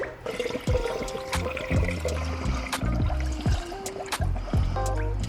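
Coolant glugs and trickles into a radiator funnel on a Subaru in irregular bubbling bursts, close by, with gurgling air pockets breaking through the pour.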